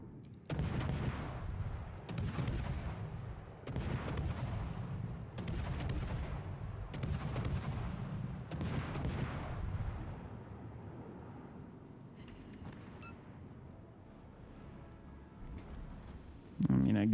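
Heavy warship guns boom in the naval battle game World of Warships: Legends, six deep blasts spaced about every one and a half seconds, each with a rumbling tail. Quieter game ambience and faint effects follow after the salvos.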